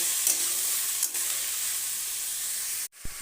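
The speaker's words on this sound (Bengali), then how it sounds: "দিয়ে ভালোভাবে নেড়ে চেড়ে নেব।" Ash gourd and prawn curry being stirred in oil in a pan, a steady sizzling fry with light scraping strokes that runs close and even, cutting out abruptly near the end.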